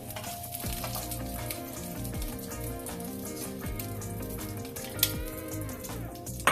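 Potato frying in a pan for Peruvian tallarines verdes, a steady close sizzle with crackling running the whole time, a few small clinks and a sharper tap near the end.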